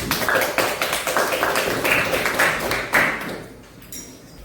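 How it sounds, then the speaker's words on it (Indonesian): Applause from a classroom group during a teacher-training presentation session, a dense run of many hands clapping that fades gradually toward the end. "kita beri aplaus untuk kelompok"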